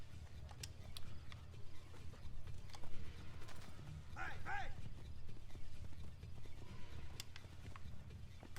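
Horse hooves clip-clop at a steady pace in the Assassin's Creed II video game, low and rhythmic under a game backdrop, with a short whinny-like call partway through.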